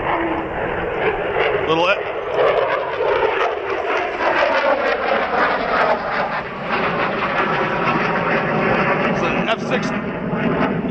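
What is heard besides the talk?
F-16 fighter jet flying over from Truax Field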